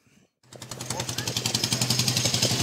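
A 1909 Zèbre vintage car backfires in a rapid, regular string of loud pops close by, speeding up into a machine-gun-like rattle after a brief quiet start.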